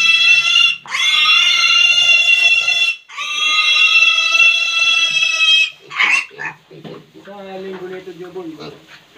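Pig kept at a Filipino household grunting and squealing in loud, sustained bursts, with a pause between, followed by shorter, choppier grunts at close range; a voice may be faintly present.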